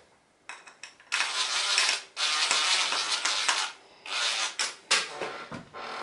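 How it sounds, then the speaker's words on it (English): A powered driver starts drywall screws into a piece of plasterboard, loud whirring bursts of one to two seconds separated by brief pauses, recorded close up with no talking. "Just start the screws off in the piece of plasterboard to make it easier for yourself."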